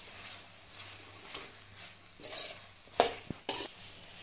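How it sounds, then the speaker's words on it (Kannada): Paneer matar masala with green chillies being stirred in a pan: quiet scraping and stirring strokes over a faint sizzle, with a few sharper utensil clinks near the end. "ಇವಾಗ ಮತ್ತೊಂದು ಸರಿ ಚೆನ್ನಾಗಿ ಮಿಕ್ಸ್ ಮಾಡ್ಕೊಳ್ಳೋಣ."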